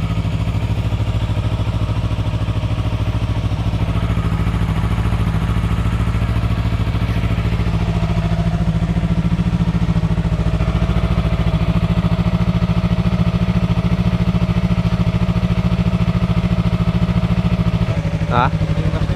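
A Yamaha R3 motorcycle engine runs for the first time, holding a loud, steady idle with a deep rumble. The revs shift slightly midway, and voices are heard faintly underneath.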